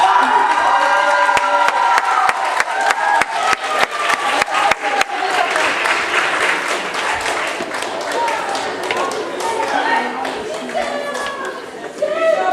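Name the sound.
audience applauding and cheering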